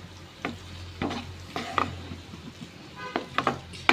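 Goan egg masala is stirred in a pan, with a series of close, distinct spoon scrapes and soft clanks over a faint sizzle; no voices.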